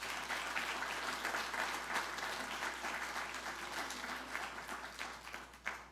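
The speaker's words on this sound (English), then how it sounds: "give a round of applause to Gary Martin, Deirdre Healy, and Katie Doa" Symposium audience giving a round of applause: dense, sustained clapping from a sizable crowd that gradually thins, with a single sharper clap near the end, moderately faint in a large room.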